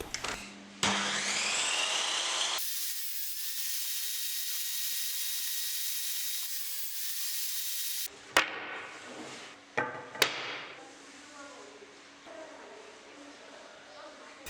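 Wooden rail edges being cut at an angle for a dining buffet cabinet: a long loud continuous power-saw whine, then scattered knocks, rubs and clatter of wood being handled in a workshop.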